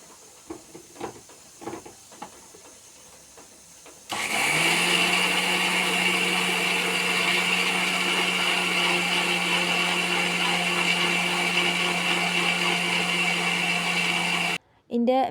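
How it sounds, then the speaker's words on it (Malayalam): A mixer grinder grinds rice in a home kitchen, starting abruptly after a few seconds of quiet and running as a loud, steady whirring roar for about ten seconds before cutting off sharply, with a brief restart at the end. "മിക്സിക്ക് വല്ലാത്തൊരു സൗണ്ടാണ് കേട്ടോ"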